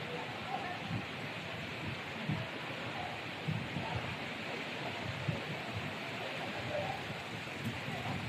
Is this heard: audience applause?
no